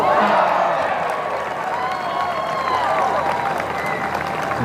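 Golf gallery at the CME Group Tour Championship applauding and cheering around a green, a dense steady wash of clapping and excited crowd voices that holds from start to end.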